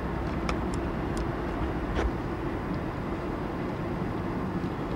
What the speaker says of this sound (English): You can see we're driving down the street